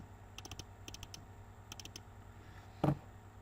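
Computer mouse clicks and light keyboard typing during data entry in SharePoint software, several quick paired clicks and taps over a low hum, ending in one louder, fuller click.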